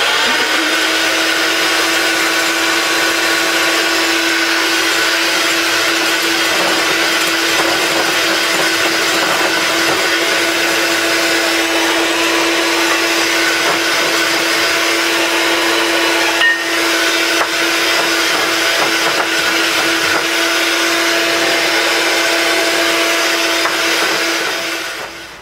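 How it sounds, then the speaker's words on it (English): Electric mixer beating egg whites and sugar on high speed, a loud steady whirring motor hum lasting the whole stretch without pause, close by and alone. "beating the egg whites until all the sugar is added and the egg whites are stiff and stand straight up in little peaks"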